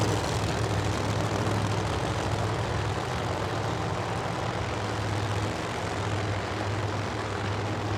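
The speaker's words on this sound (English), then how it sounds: "You ain't seen a burnout like that all afternoon out of that car." A drag racing car does a burnout at a Pro Mod and nitro drag strip event, a loud, continuous, unbroken engine roar that fills the whole stretch.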